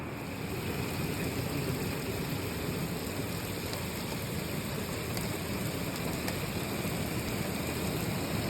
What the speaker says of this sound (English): It's actually quite cosy sitting in the van when it's raining outside.